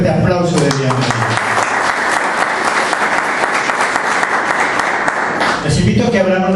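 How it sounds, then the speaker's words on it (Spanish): A church congregation gives a loud, sustained round of welcoming applause, dense clapping filling the room for several seconds before tapering off, with a voice briefly audible near the end. "Démosle ese fuerte aplauso de bienvenida."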